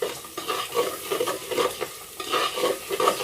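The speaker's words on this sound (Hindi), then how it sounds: "इसको मैं भून लूँ 1 से 2 मिनट" Ginger garlic paste fries with cauliflower in a pan, giving a soft, steady sizzle. A spoon stirs through it in repeated scraping strokes, close and moderately quiet.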